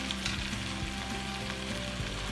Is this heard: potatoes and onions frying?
yes